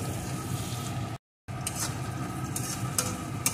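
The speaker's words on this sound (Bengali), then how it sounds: "এখন আবারও আরেকটু নাড়িয়ে নেব।" Spices for egg bhurji are stirred in a hot pan, a soft scraping and light sizzle up close, broken by a short silent gap, then resuming with a few sharper scrapes.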